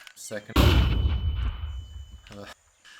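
A flashbang grenade goes off in a video game: a loud, close blast followed by a sustained high ringing tone that fades over about two seconds, with brief voices before and after.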